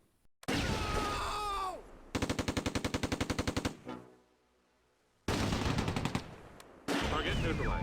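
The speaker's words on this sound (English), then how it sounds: "Suddenly, the BAR squad opens fire." BAR squad opening fire in the World War II strategy game Close Combat: A Bridge Too Far, with loud sustained bursts of gunfire, a rapid rhythmic automatic-weapon volley, a short lull, then more heavy firing.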